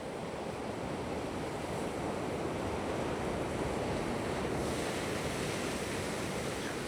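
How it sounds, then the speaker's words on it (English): Ocean waves crash and break around a rock in a dense, continuous roar of surf, loud and close, with wind-like rushing throughout and no voices. "this is all about the waves breaking around this rock"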